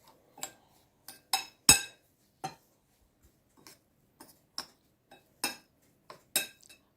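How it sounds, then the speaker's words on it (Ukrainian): A spoon clinks and scrapes against a bowl while stirring an apple and cottage cheese mixture, irregular taps, some sharper and louder, with quiet gaps between strokes. "Цю суміш яблучну додаю до сирної маси і розмішую ложкою до однорідності"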